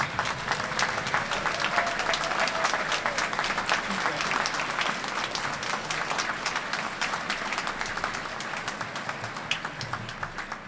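A graduation audience applauds their loved ones, a dense, steady wash of clapping that holds for about ten seconds with faint voices mixed in.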